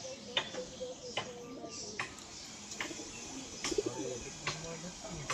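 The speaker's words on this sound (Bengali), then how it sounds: "এক জোড়া দেশি কবুতর" A pair of domestic country pigeons, including a male, coo softly in low, intermittent notes among sharp clicks and shuffling nearby, with faint voices in the background.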